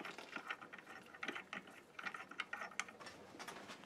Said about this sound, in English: Tap wrench. And just wind her down.